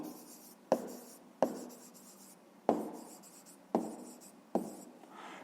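A number is written down during a fifth-grade math exercise: five sharp, scratchy strokes land at uneven intervals, each fading quickly, close and clear with no talk.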